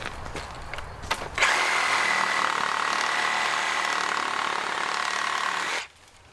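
A reciprocating saw with a Diablo pruning blade cuts up through soaking-wet dead pine from the underside. A loud, steady buzzing rasp starts suddenly after some handling noise, holds for about four seconds, then stops abruptly.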